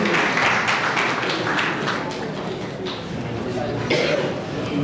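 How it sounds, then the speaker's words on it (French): Audience applause at a public-speaking event, a sustained round of mixed claps and taps with chatter and voices mixed in, lasting several seconds at even strength. "Vos applaudissements, s'il vous plaît."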